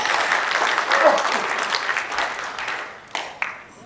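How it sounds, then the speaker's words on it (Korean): Applause from an audience at a conference in a press center, dense clapping that is loud at first and then fades away over a few seconds with a few last scattered claps. "김성진 교수님께도 감사의 박수를 보내주시기 바랍니다."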